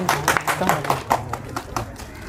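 A room of students claps briefly for the next Bihar SSC topper, uneven sharp hand claps over a couple of seconds with speech running beneath.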